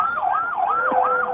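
A wailing emergency siren rises and falls in steady, repeating sweeps during a nationwide security services march, sounding in the background at moderate volume with no talking over it.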